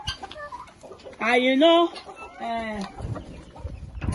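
Farm chickens in Ireland give two loud, drawn-out clucking calls close by, with someone briefly speaking before and softer rustling afterward.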